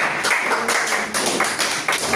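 A church congregation at a Sunday service in Toulouse applauds, giving dense, steady clapping that fills the room without a break for about two seconds.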